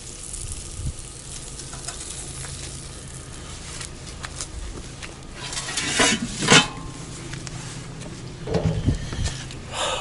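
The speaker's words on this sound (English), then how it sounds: "The sizzle. Listen to the sizzle." Food sizzles on an outdoor grill at an RV campsite with a steady crackling hiss, and clinks of metal utensils and a few scraping bursts come through near the grill.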